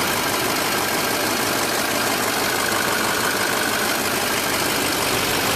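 A 2005 Ford F-350 Lariat pickup with a Power Stroke diesel engine idles in a continuous, dense, loud rumble with a slight knocking texture, close by and steady throughout.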